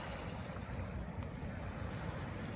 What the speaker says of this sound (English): I can just hear the waves lapping.